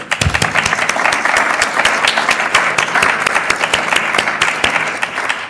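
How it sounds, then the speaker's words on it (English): An audience at a storytelling guild event in Seattle applauds an inductee, with close, distinct individual claps standing out over a steady bed of clapping and a few cheers. "Let's cheer."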